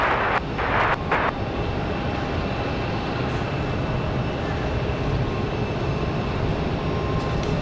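A United airliner taxis out at Raleigh-Durham airport on a windy day, its engines a steady broad rumble and whine under gusty wind noise, with a few brief knocks near the start.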